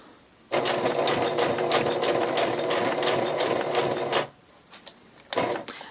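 Sewing machine stitching fabric scraps for a lollipop Christmas tree ornament, running in one steady, loud, fast whirring burst for several seconds, then stopping, followed by a brief restart near the end.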